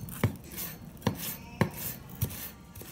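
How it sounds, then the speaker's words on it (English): A knife chops vegetables on a cutting board for Cajun red beans and rice, making four crisp, evenly spaced thuds close by with no talking. "Slice those through. Slice them going and coming."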